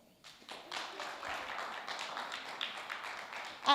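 A conference audience claps for a presenting team, scattered light applause building to a steady patter that stays fairly faint and thin.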